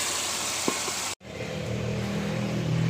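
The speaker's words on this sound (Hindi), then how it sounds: "अब हमने जो मसाला कुकर में गलाया था वो इसमें डाल लेंगे और इसको भून लेंगे।" Masala softened in a pressure cooker is frying in hot oil for chicken karahi, giving a loud, dense, steady sizzle up close that breaks off for an instant and then carries on.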